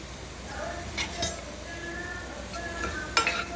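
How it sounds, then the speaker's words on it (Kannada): Fenugreek seeds hit hot oil for tempering, giving a faint, steady sizzle broken by soft clinks and scrapes of a utensil against the pan, with brief voice sounds mixed in. "ಈ ಎಣ್ಣೆ ಬಿಸಿ ಆದ ತಕ್ಷಣವೇ ಮೆಂತ್ಯ ಕಾಳನ್ನ ಹಾಕ್ಕೋಬೇಕು"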